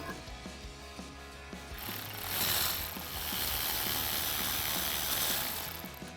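Electric ratchet running 10 millimeter bolts in during a cold air intake install on a 1996-2004 Mustang. A steady mechanical whir builds and holds with gear-like chatter and low rhythmic ticking, close and fairly loud.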